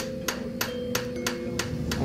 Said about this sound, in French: c'est en additionnant les coups de marteau qu'on a des facettes plus petites